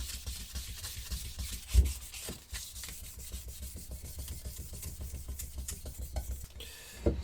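Fine 1200 grit sandpaper scrubs rhythmically back and forth over a Honda CB550 engine casing, a steady close rasping rub with a couple of louder knocks and no speech.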